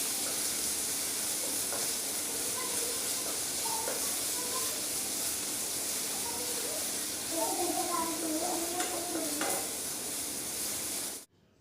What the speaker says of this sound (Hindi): तो यहाँ पर हमारी प्याज फ्राई हो चुकी है